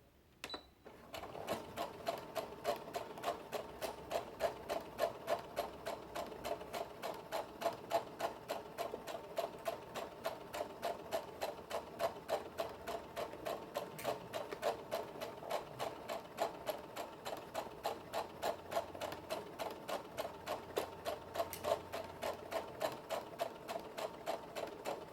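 Sewing machine stitching a bodice seam for a Vogue 8825 garment, a fast, even mechanical ticking that runs almost without pause at moderate volume, close by.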